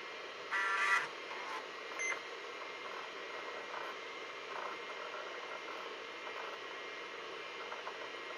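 A 286 computer hard drive spins up after a brief beep, leaving a steady whirring hum that runs on alone, moderately loud and unbroken.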